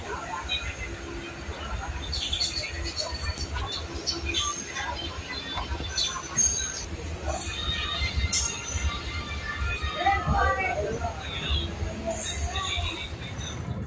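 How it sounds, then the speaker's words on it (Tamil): A train to Velankanni starts moving, rumbling and clattering with metallic wheel squeals over steady background noise, sounding close, with voices faintly mixed in. "வேறு ட்ரெயின் மூவ் ஆகிட்டு."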